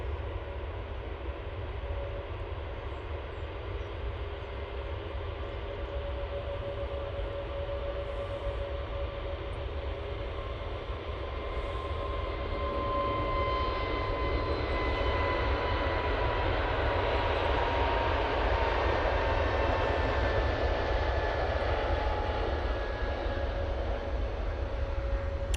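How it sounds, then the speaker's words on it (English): An EasyJet Airbus A320 at Manchester Airport roars steadily as a broad jet engine rumble, swelling louder through the second half with a whining tone on top, heard alone. "That was a A320"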